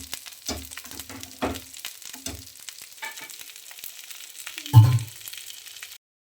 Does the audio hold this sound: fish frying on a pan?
yes